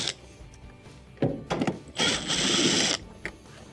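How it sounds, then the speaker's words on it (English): A driver removes T20 Torx screws from a washing machine's console during a repair, with close mechanical thunks followed by a sustained whirring burst of about a second, then a final tap. "underneath here we have 2 T20 Torx screws that have to be taken out."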